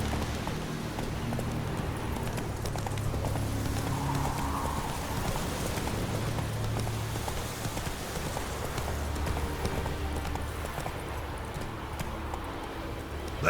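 Horse hooves gallop in The Witcher 3 in a fast, continuous clip-clop, loud and close, blended with game ambience that sounds like light rain.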